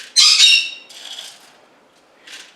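A pet bird gives a loud, harsh squawk, then two shorter, fainter squawks after brief pauses, close by and alone.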